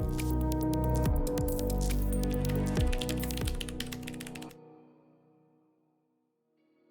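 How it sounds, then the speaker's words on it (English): Rapid, close typing on a laptop's Cherry MX ultra low profile tactile mechanical keys: dense clicky taps in quick bursts for several seconds, then the keys stop and the sound fades into near silence. "a fully mechanical keyboard featuring Cherry MX ultra low profile tactile switches"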